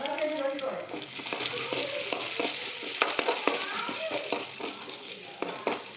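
Sambar powder frying with shallots and garlic in a pan, a steady close sizzle with the scrape and clack of stirring throughout.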